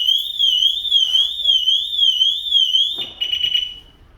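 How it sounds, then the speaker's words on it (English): A Pandora Mini car alarm on a BMW M3 F80 shrills with a warbling, rising-and-falling electronic siren, loud and close, then changes to a rapid chirping tone with some handling noise near the end. "and that sets the alarm off as well."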